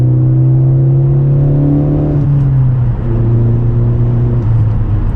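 A tuned 2020 Honda Civic Si with a blow-off valve pulls hard through the gears from inside the car, its loud engine drone rising in pitch before dropping at a shift and climbing again.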